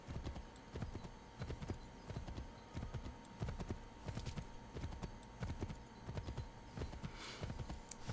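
Horse hooves clip-clopping at a steady walking rhythm in the video game Assassin's Creed III, clear and fairly close, continuing evenly throughout with no talking.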